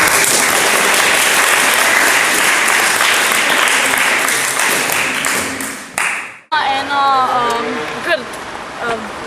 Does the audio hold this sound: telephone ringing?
no